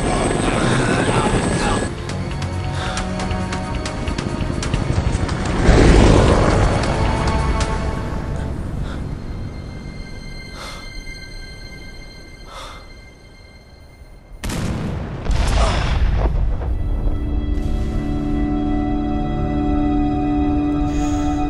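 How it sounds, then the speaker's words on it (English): Helicopter crashing in the Dead Rising video game: a loud, sustained rotor roar that swells, dips briefly, then returns with heavy impact noise and ringing tones. "Helicopter crashed."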